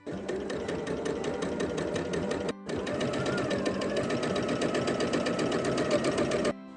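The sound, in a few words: sewing machine stitching quilt half square triangle seams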